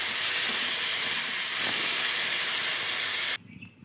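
Water poured into a pan of sizzling bitter gourd and potato curry gives a loud, steady hiss of steam lasting over three seconds, then cuts off abruptly to a quieter bubbling simmer.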